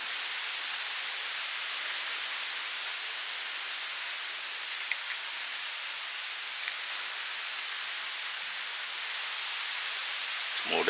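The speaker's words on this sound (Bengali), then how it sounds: "বৃষ্টি এসছে বেশ এখন" Heavy rain falls steadily throughout as a dense, continuous hiss, with no voices and only a faint knock near the end.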